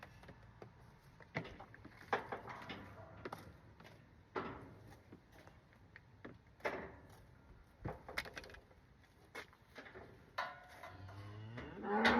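Cattle moo repeatedly while calves are being weaned, with several deep calls and knocks of wood at a moderate distance in a farm setting.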